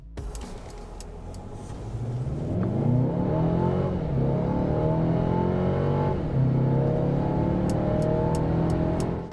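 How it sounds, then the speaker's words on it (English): Heard from inside the cabin, a Mercedes-Benz A220 4Matic engine pulls hard under full throttle, rising steadily in pitch through the gears with a restrained, moderate drone. "the engine never sounds like it's overworked and never becomes loud enough to interrupt your conversation"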